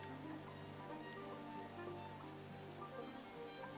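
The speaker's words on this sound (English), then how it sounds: "Oh, it's raining." Faint, steady rain falls outside, a soft continuous patter heard at a distance with no voices.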